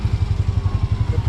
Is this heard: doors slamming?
no